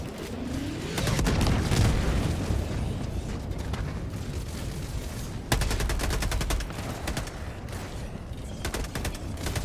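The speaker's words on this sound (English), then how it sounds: "Who's still shooting?" Gunfire and explosions in Helldivers 2 keep up throughout: rapid bursts of automatic fire crackle over heavy booming blasts and a low rumble, loud and continuous, with a sharp fresh burst midway.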